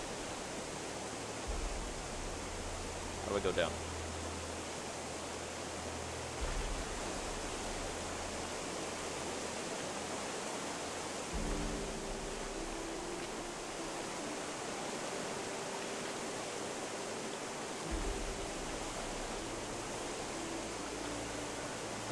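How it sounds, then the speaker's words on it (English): Flowing water in the Gothic Remake demo, a video game: a steady, soft broadband rush of moving water runs throughout under low game music, with a brief spoken question near the start. "Water!"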